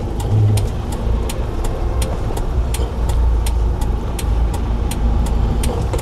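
A 2.5-ton manual-transmission truck pulls away after a gear is engaged, its engine giving a steady, loud low rumble throughout, with a faint regular ticking above it.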